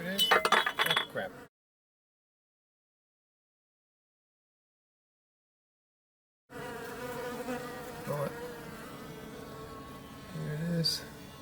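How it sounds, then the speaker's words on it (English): A bee buzzes close by as it flies carrying a dead bee, with a short burst, a long silence, then a sustained droning hum beside a brief voice. "So it's flying with a dead bee."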